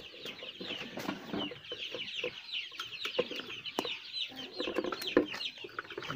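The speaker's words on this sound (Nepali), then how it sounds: "मेरो यहाँ 700 कुखुरा छ" A large poultry flock of about 700 chickens clucks steadily and close by, many overlapping calls forming a continuous busy chatter with no talking.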